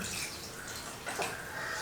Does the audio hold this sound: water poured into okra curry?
yes